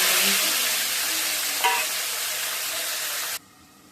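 Vegetable stalks stir-frying in a hot pan, a loud continuous sizzle with a brief scrape of stirring partway through, cutting off abruptly near the end.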